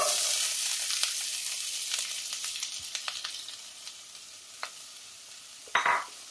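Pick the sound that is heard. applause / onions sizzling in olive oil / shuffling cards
onions sizzling in olive oil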